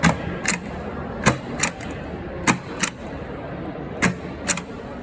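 Keys pressed on a historical braille writing device at an exhibition, heard as five or six separate sharp mechanical clacks at uneven intervals over a low room hum, fairly close.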